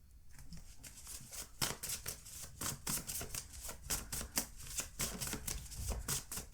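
Tarot cards are shuffled and drawn by hand in a quiet room: a fast run of crisp, papery riffles and flicks, closely miked and soft, with no talk.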